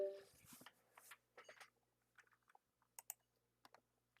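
Clicky mechanical keyboard typing in quick bursts of clacks with brief pauses, close by and moderately loud, with a faint steady hum underneath.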